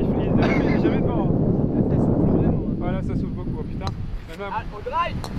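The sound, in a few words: wind blowing on golf course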